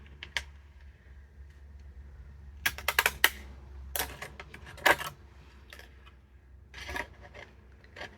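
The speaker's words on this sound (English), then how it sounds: "lining my scissors up with the last hole." Scissors snipping around the pencil-drawn pattern of a large paper envelope, a series of sharp crisp cuts in small clusters, close and quiet, with no talk.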